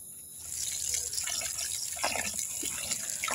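Water splashing and gushing steadily as a peeled ash gourd is washed, a continuous close rush with small splashes and trickles throughout, no voices.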